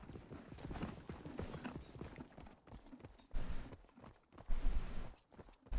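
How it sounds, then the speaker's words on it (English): Hooves clop on the ground at a walking pace, fairly quiet beneath ambient game noise in Knightfall: A Daring Journey, with a few louder thuds toward the end. "That's a horse."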